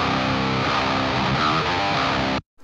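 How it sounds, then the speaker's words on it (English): Distorted electric guitar runs through the KRANK KRANKENSTEIN freeware preamp plugin, giving a thick, mid-rich tone; a short chugging riff plays loud and steady before stopping suddenly. "And using this same impulse response but with the KRANK KRANKENSTEIN, it sounds like this."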